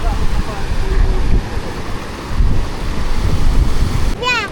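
Sea waves wash and splash onto the shore in a steady loud roar mixed with wind buffeting the microphone, with a brief voice near the end.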